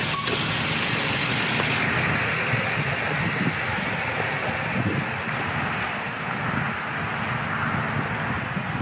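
Idling engine of a Japanese-import 2002 Subaru Legacy B4 RSK (BE5): a steady, even rumble, close and continuous with no revving, over a broad hiss of background noise.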